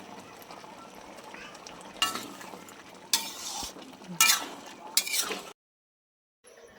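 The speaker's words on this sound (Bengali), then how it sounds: "এরপর আমি 2 চামচ মতন ঘি দিয়ে দেবো।" Ghee sizzling in a pan while shukto cooks, heard as several short bursts of frying hiss with utensil clatter, then falling silent near the end.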